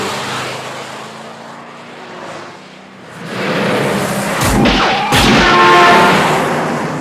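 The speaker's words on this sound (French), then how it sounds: "la Chevrolet Impala a beau s'être extirpée du tunnel, elle est littéralement coincée de partout sous tous les feux" A Chevrolet Impala in a film car chase bursts out of a tunnel, a roaring engine rising loud and close, with sharp impacts and crashing hits as the pursuit closes in.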